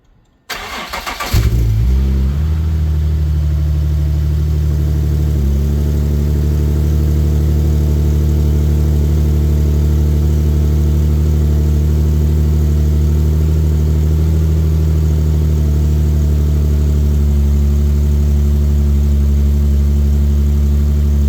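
An Infiniti G37 engine cranks and catches after a brief silence, then settles into a loud, steady idle with a constant low hum held close by for about twenty seconds, no voices.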